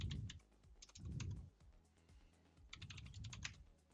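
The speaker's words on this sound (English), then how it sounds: "I'm typing." Fingers clatter on a computer keyboard in three quick bursts separated by short pauses, close and fairly quiet, with no talking.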